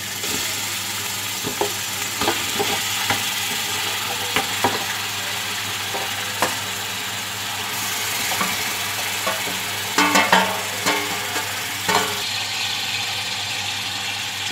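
Marinated chicken sizzles steadily in a hot pan for biryani, with intermittent scrapes and clinks of a spoon stirring against the metal over a low background hum.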